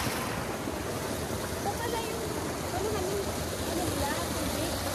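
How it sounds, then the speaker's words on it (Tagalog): Strong irrigation water flowing at the Buscalan rice terraces, a loud, steady rush close to the microphone, buffeted by wind. "So, ang malakas din yung tubig ng irrigation, no?"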